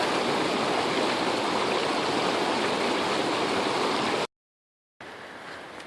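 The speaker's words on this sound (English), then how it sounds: "This stream is just awesome." A mountain stream flows in a steady, loud broadband rush close by, cut off by a brief silence before the water noise resumes slightly softer.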